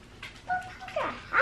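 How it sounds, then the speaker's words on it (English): A pet dog whimpers indoors at night, giving a few short, close whining cries that rise and fall over about a second and a half. "here comes Puppy. I think he wants his fresh pet"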